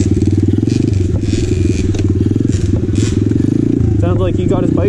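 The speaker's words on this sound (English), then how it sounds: "Sounds like he got his bike running." A 2020 Apollo RFZ 125cc pit dirt bike engine runs steadily nearby with a loud, rapid, buzzing putter, while someone talks over it toward the end.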